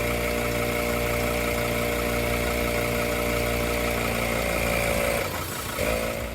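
An ARB single air compressor runs steadily while inflating a vehicle tyre, a loud continuous motor drone that holds level before faltering and dropping slightly near the end, with no talking.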